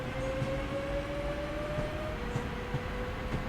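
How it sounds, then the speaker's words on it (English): A Birmingham Cross City Line train in a simulator game drones steadily as it takes power, a constant engine hum with a rising tonal whine and soft rhythmic rail clicks, no voices. "And our train is taking power."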